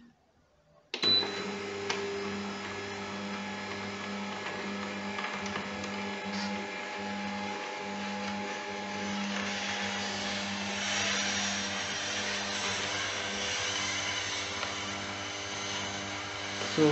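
A Buti cold press oil and masala extractor machine starts with a sudden onset and runs steadily, giving a constant mechanical whir and hum at moderate level throughout with no talk.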